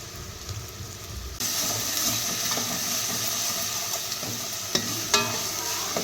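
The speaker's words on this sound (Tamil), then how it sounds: "இஞ்சி பூண்டு நல்லா பச்சை வாசம் போகிற அளவுக்கு வதக்கிக்கணும்" Ginger garlic paste fries in oil for mutton curry and is stirred, with a steady loud sizzle that surges partway through and two sharp utensil clinks against the pan near the end.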